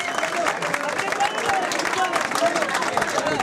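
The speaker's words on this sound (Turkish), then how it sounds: "Bir alkışı onun için rica ediyorum." Crowd applause at the Turkcell Gelibolu Marathon, a dense, steady wash of clapping from a large outdoor gathering with a crowd murmur mixed in throughout.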